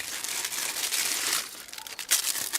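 A plastic zip-lock bag holding matchboxes and a lighter from a car survival kit crinkles and rustles continuously, close up, with no voices.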